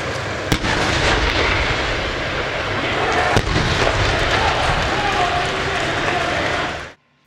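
Loud, dense roar of tanks firing at the Alabino range during a tank biathlon, with a few sharp blasts standing out, continuous throughout before cutting off abruptly at the end.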